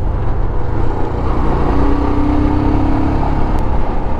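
A Royal Enfield Scram 411 motorcycle, a modest-displacement single with a 5-speed gearbox, drones steadily and loud throughout while riding, a low rumbling engine note under rushing wind noise.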